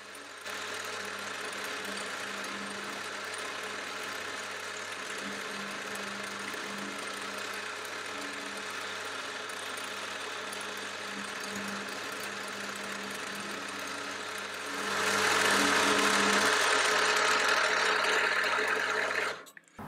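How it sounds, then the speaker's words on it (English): A milling machine cuts the first flat on a round bar held in a dividing head, giving a steady whirring drone with a low hum throughout that swells louder and harsher over the last few seconds, no talk. "We start off by machining the first flat."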